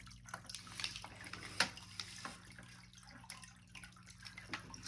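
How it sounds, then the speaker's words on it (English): A hand-pumped aquarium gravel cleaner siphons tank water, giving a faint, continuous watery gurgle and trickle with small splashes and a low steady hum beneath. "this little gravel cleaner is pretty cool because you just pump it like 5 times and the suction is created"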